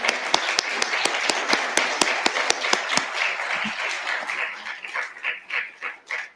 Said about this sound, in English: Please let's applaud this